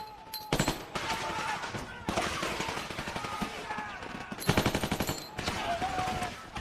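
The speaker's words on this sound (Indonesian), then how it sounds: "dari atas bukit tentara Nazi telah siap dan menembaki mereka" Gunfire from a war film battle, Nazi soldiers firing down from a hilltop: loud bursts of rapid machine-gun and rifle shots in dense volleys with short pauses, backed by rumbling battle noise.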